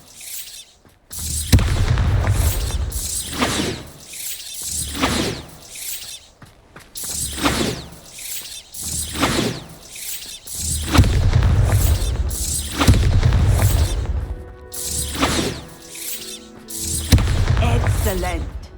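Repeated Bombarda blasting-spell explosions in Hogwarts Legacy land as deep booming bursts with crackling debris, one after another over about twenty seconds, loud and close, mixed with voiced spell casting and in-game speech.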